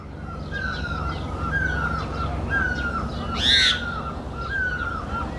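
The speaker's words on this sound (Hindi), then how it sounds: "और पूरे वातावरण में पक्षियों का शोर सुनिए।" Birds calling loudly across mountain fields in spring, repeated cawing and hooting calls in a steady rhythm over a constant background hum, with one louder, nearer call midway.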